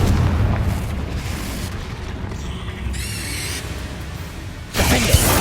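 In Hogwarts Legacy gameplay, a Confringo fire spell goes off as a sudden booming blast near the end, rising out of a steady rumbling game soundscape.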